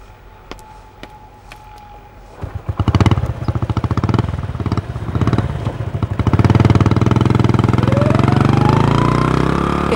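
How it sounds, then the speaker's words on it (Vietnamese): A motorbike engine started indoors: a few light clicks and taps, then the engine catches and idles with a rapid rattling pulse, revving louder and holding a steady roar toward the end. "không được nổ máy từ trong nhà"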